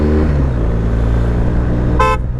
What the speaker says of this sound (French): C'était pas le bouton des clignots, c'était le bouton du klaxon